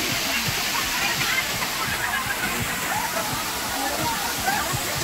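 Hidden waterfall, a dense continuous rush of falling water and splashing close by, steady and loud throughout, with people faintly chattering in the background.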